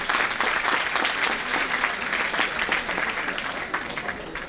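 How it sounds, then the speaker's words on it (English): Sustained, dense clapping from an audience at a national conference for chartered accountancy students, a full round of applause for the presenters that fades slightly toward the end. "A big round of applause for all our presenters."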